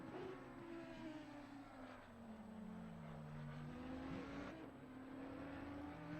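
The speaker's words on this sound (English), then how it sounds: "A sweet sounding car." A race car engine in a sim racing game at Misano, a steady rasping drone with pitch sweeping up and down through gear changes, held close and continuous with no talk.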